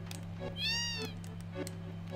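A single drawn-out cat meow from the Final Fantasy VII video game rises and falls once, quiet over a steady hum of game music.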